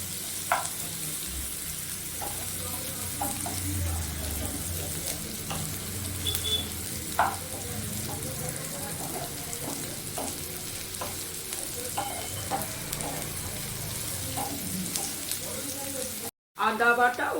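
Onions frying in a pan while being stirred, giving a steady close sizzle with repeated scraping ticks of the spoon, and a brief break near the end.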